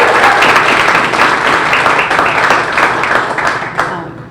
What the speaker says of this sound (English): So I want to get another round of applause for Fran.